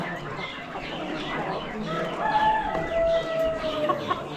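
Cochin chickens cluck in a busy coop at an animal auction, with a rooster crowing a drawn-out call midway, all fairly close and without talk.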